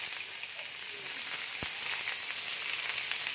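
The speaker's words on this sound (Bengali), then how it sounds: "এবার আমি পেঁয়াজ কুচিটা দিয়ে দিচ্ছি" Chopped onion drops into hot oil already seasoned with five-spice tempering and sizzles in a steady, bright hiss that carries on evenly, with a single sharp crackle partway through and no voices.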